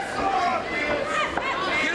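Dense crowd noise at a boxing match, a steady wash of many voices and murmured chatter filling the whole moment with no pauses, and a brief sharp thud near the middle.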